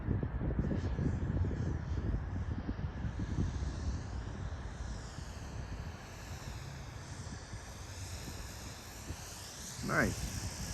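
A 3D-printed radio-controlled stunt plane buzzes overhead on its maiden flight, a thin, wavering motor whine passing near and far over steady wind rumble, with brief voices.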